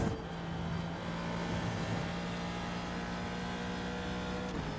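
Ford GT2 race car engine in iRacing at Road America, a steady sustained drone with strong harmonic tones, running loud and continuous throughout with slight shifts in pitch.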